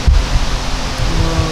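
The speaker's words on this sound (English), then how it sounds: "the noise you're hearing in the background, we have the exhaust fan" Loud, steady broadband whoosh of an exhaust fan running close by in a workspace where brake calipers are spray-painted, with a few low thumps underneath.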